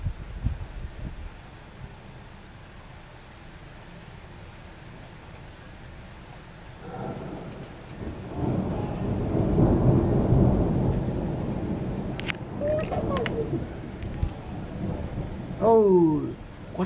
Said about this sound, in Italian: tuoni e lampi